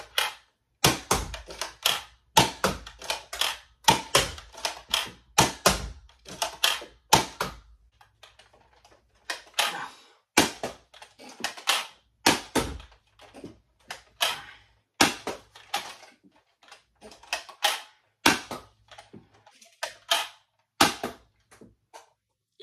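Nerf Zombie Driller hammer-action toy blaster fired in a long run of sharp, loud single shots, some in quick bursts and others spaced apart, each crack followed by a brief mechanical clatter, with no talking.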